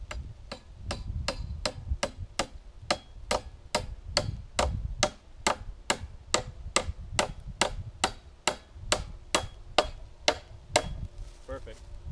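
Steady hammer blows drive a stake into the ground while a squirrel trap set is built outdoors, about two strikes per second, crisp and close, with faint low background noise between hits.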